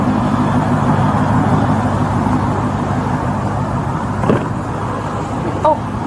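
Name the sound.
car engine left running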